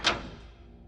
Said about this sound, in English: I heard what sounded like the click of a door